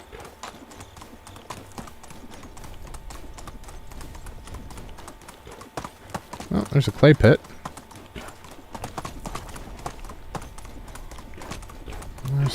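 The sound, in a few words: horse hooves while riding, Medieval Dynasty video game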